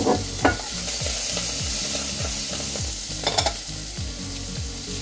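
An aromatic garnish sizzles and fries in a pan for a roast chicken, with a steady hiss under repeated scraping strokes of a utensil stirring it, close up and without speech.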